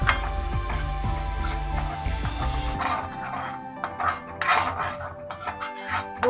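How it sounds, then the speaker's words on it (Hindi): Yogurt stirred and roasted with masala in a pan for a masala bhindi dish, a spoon scraping and clinking against the pan in irregular close strokes, with low rumbling early and sharper clatters later. "और मसाले के साथ में हमें भूनना है इसे तब तक जब तक कि इसमें से ऑयल सेपरेट नहीं हो जाता।"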